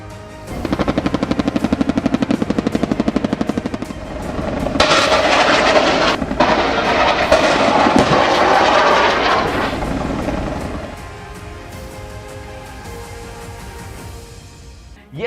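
A Z-10ME attack helicopter thunders past with a loud rapid rotor chop, then a rising roar and whine of its turbine engine as it passes close, fading to a lower distant drone at the end.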